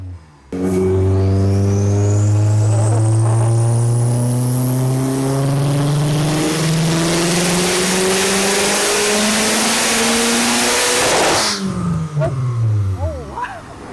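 A budget turbocharged Honda engine on a dyno, with fuel pressure raised, revs loudly and steadily through a long climbing pull for about eleven seconds, with a whistling rise on top, before cutting off sharply and dropping back.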